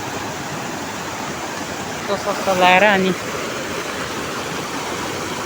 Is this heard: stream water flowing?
yes